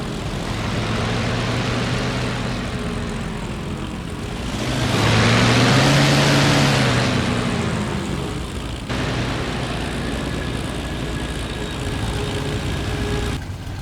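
A 1350-horsepower warplane engine runs before takeoff, a steady droning roar that swells louder in the middle, then settles back to an even, continuous hum.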